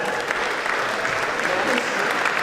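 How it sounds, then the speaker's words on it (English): An audience applauds the judges at a news hack demo and prize event, with dense, even clapping throughout that sounds like a full room. "Round of applause for the judges."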